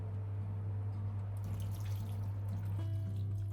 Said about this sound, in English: Add half a cup of water.